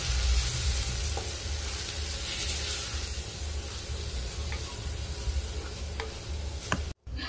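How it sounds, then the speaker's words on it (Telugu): Chopped tomatoes and onions with curry leaves and coriander sizzle in hot oil in a pan, a steady close frying hiss with a few light clicks of stirring. "టమోటాలని ఫ్రై చేసుకోవాలి"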